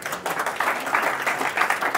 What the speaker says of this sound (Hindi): सबके लिए जोरदार तालियां होनी चाहिए